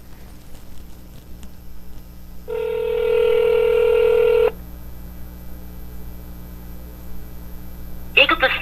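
A telephone call to an Ohio cannabis dispensary: a steady ringback tone sounds for about two seconds over a low mains hum, followed by quiet line noise and a brief burst of sound near the end.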